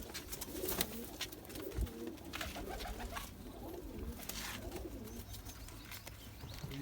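Male silver zero Zeera pigeon in breeding season cooing close by, a string of soft, low, rolling coos repeating over a few seconds against quiet background noise.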